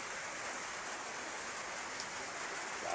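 Steady rain falls outdoors with a constant, soft, even hiss of drops on the surface, fairly quiet and with no voices.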